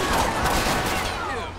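A loud, rapid volley of gunshots during a GTA 5 LSPDFR police mod patrol, the shots blurring together into a short, dense burst.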